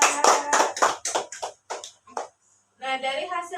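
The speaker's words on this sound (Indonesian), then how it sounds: "tepuk tangan buat Iza" Rapid hand clapping comes from a primary school class applauding a student, a burst of quick claps followed by children's voices.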